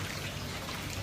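Water splashes in a bath as a brief, continuous watery spatter and patter at moderate loudness, with no voices.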